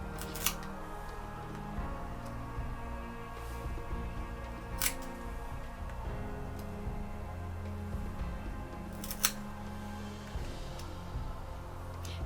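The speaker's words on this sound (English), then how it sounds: "Can you hear the cards like unsticking from themselves?" Oracle cards with Viking artwork are handled and pulled apart from a fresh deck, giving soft papery rustles and a few sharp crisp snaps over a steady faint background, with no talking.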